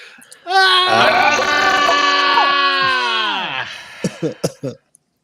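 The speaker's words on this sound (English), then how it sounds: "when anyone gifts a membership or becomes a member around here, we like to scream" A group of people scream together in celebration for about three seconds, a sustained, loud, wavering chorus of voices that breaks off into a few short laughs and yelps.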